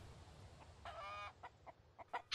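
A chicken in the Mist Survival video game clucking close by: a drawn-out squawk followed by a string of short, sharp clucks in quick succession, clear against a quiet background without talk.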